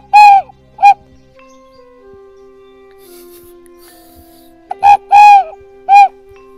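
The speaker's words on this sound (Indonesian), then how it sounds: "Bagus ya suaranya ya, suara tekukur." A recorded spotted dove call plays in short bursts as a lure, a pair of soft cooing notes, a pause, then several more coos, fairly close over a faint steady hum.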